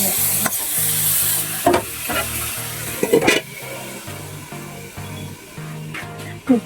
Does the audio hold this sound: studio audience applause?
no